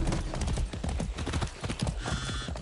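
A horse in the video game Far Cry 6 trots with steady, loud clip-clopping hooves, and near the end a neigh comes through over the hoofbeats.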